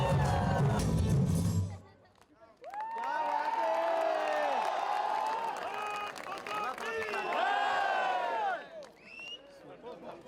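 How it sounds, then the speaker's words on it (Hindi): Audience applause and cheering at a song launch event in Jaisalmer surge loudly for about two seconds and then fade, followed by a person speaking over faint crowd noise. "सबके लिए एक बार जोरदार तालियां."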